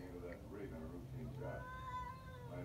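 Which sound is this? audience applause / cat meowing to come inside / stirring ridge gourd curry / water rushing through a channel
cat meowing to come inside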